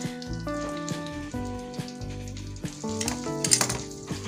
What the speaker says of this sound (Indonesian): Ini kita goreng sampai kering ya.